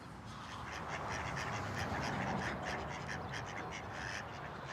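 Many ducks and geese quack and honk in a dense, continuous chorus across lakes and marshes during a waterfowl hunting season, calls overlapping at moderate distance.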